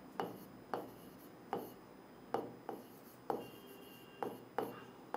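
A pen moves by hand across paper as the word homework is written quickly, a faint steady series of short scratchy strokes, about ten of them in an even rhythm, with no talking.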